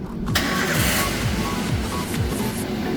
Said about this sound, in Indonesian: ketika mobil ini di starter dan ketika mobil ini nyala